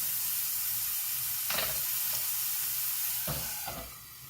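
Sizzling in a covered cooking pan before eggplant is added, a steady soft frying hiss with a couple of louder bursts of stirring or lid movement.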